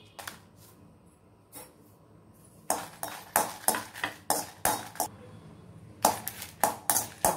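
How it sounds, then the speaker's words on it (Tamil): Dried red chillies roasting in a pan while black urad dal idli powder is made, a spatula scraping and stirring in quick repeated strokes, crisp and close after a quieter start. "அடுத்தது காஞ்ச மிளகாய் போட்டுக்கிடுவோம்."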